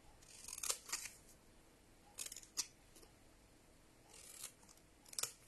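Scissors snipping paper for a handmade stair-style greeting card, a series of crisp close cuts in small bursts with pauses between, quiet and alone with no talking.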